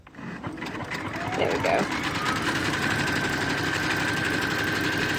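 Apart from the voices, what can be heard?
sewing machine zigzag stitching knit fabric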